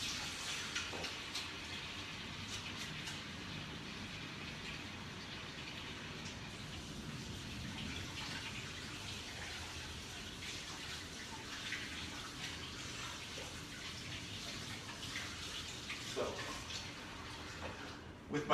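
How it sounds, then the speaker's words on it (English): A tap runs water while hands are washed at a kitchen sink, a steady close splashing rush with small irregular spatters throughout, no voices over it. "I'm gonna wash my hands real quick"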